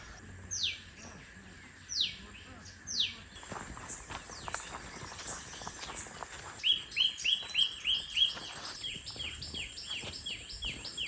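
Birds sing along a quiet forest trail at Lonar Lake, a meteorite crater lake in India: repeated clear chirps and whistled phrases, with a quick run of rhythmic calls in the second half over a soft insect hum and a few footsteps.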